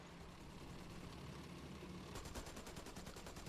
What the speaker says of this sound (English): I actually quite like the sound of the machine guns on the French tanks.